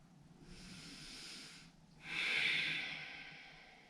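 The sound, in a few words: deep breathing during yoga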